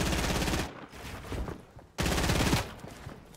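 Two bursts of rapid gunfire in Fortnite Battle Royale, each a dense volley lasting under a second, with a short lull between them and no voices over the shots.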